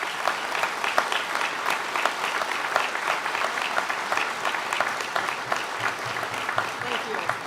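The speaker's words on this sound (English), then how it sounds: "Let's give them a round of applause." Audience clapping steadily at a military send-off ceremony for an air defense artillery battery, a dense, even round of applause that lasts the whole stretch without letting up.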